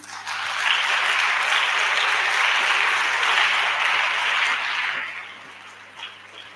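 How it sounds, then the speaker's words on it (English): A school crowd applauds sponsors at an official borehole handover ceremony in Lenasia, a broad, even wash of clapping that holds for about five seconds and then fades away, with no talking over it. "can we have a hand of applause to our sponsors"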